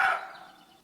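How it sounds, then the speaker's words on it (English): Roe deer call: a single short, harsh bark that starts loud and fades over under a second, heard alone. "And you found the roe deer, which sounds like this."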